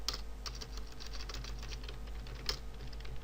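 Someone types C# code on a computer keyboard in a quick, irregular patter of light key clicks with one sharper tap near the end, close and quiet over a low steady hum.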